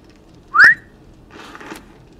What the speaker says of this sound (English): Don't whistle at me,